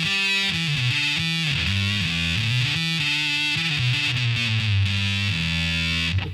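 An electric guitar through a Big Muff Pi fuzz pedal plays a heavily fuzzed, raspy, sustained bass-heavy riff, thick and saturated throughout, loud and close with no voices.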